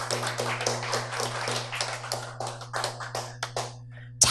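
Scattered audience clapping welcoming a guest onto a Korean talk stage, a series of close, sharp individual claps over a steady low hum, thinning out toward the end.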